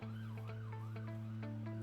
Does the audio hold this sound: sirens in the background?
yes